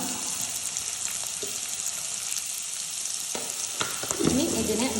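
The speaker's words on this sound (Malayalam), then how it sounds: "ഇനി നമ്മുടെ എണ്ണ ചൂടായിട്ടുണ്ട് അതിലേക്ക് നമ്മൾ അരിഞ്ഞു വെച്ച സവാളയും കൂടി ഇടാം" Chopped onions with a pinch of salt dropped into hot oil for an egg curry, a continuous close sizzle and hiss with a few brief scraping stirs near the end.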